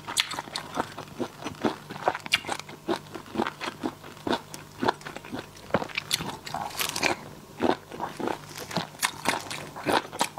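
Close, crisp crunching bites and chewing of spicy seafood and raw shrimp in a mukbang eating session, irregular sharp crackles repeating steadily over a quiet background.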